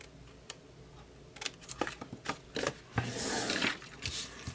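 Scissors snip off a cardboard flap on a Halloween box, a series of faint, crisp cutting clicks and crunches in quick irregular succession, ending in a louder rustle of cardboard being handled.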